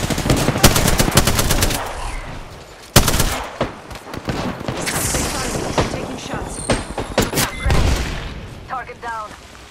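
Rapid automatic gunfire in the Apex Legends video game: dense bursts of close, loud shots with sharp single cracks between, some voice audible among the firing.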